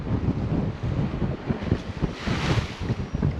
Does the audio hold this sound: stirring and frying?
no